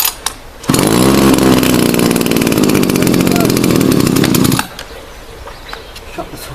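A Gardentec GHTH 2301 petrol hedge trimmer, a cheap Chinese two-stroke, is kick-started and roars into a loud, buzzy, high-revving drone that runs steadily for about four seconds before it cuts to a low idle, close by, with no talking.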